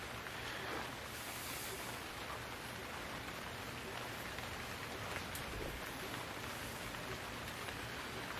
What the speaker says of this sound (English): The rain's gonna stop and sky's gonna clear